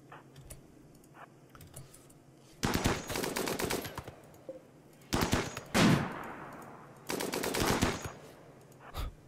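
Bursts of automatic gunfire from the RimWorld video game: three dense rapid-fire volleys plus a single sharp shot, separated by quieter gaps with faint clicks.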